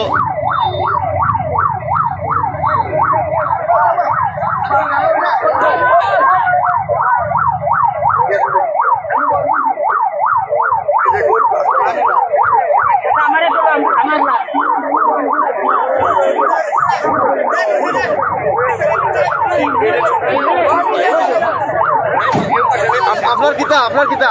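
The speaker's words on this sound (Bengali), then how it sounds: "আমরা দেখতে পাচ্ছি এখানে ফায়ার সার্ভিসের অ্যাম্বুলেন্স তাকে" A loud, rapidly wailing fire service ambulance siren cycles continuously up and down, close by, with faint voices and traffic underneath, at a road accident scene.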